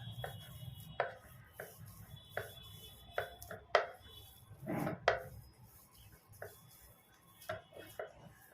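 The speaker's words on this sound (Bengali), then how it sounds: "এভাবে আমি ভালোভাবে মিক্সড করে নিচ্ছি" Soft dough for rasbali sweets being kneaded and mixed by hand, giving a run of irregular slaps, pats and taps at a close, quiet level with no talking.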